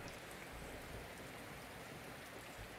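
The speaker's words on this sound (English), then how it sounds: "the rain sounds are nice, though." Rain falls during a livestream, a faint, steady wash of drops with no breaks and no voices over it.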